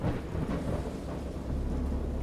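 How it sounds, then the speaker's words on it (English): A heavy thunderstorm in the Dagon video game, with dense rolling thunder and steady rain roaring together, loud and constant with no voices. "I know that I heard pearls of thunder and other tones which nature utters only in her wildest moods."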